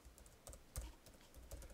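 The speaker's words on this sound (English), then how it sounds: "To add a new remark, type it into the cell" Keys tapped on a computer keyboard while entering a remark into a spreadsheet-style cell, heard as a few soft, scattered clicks and thumps in a quiet room.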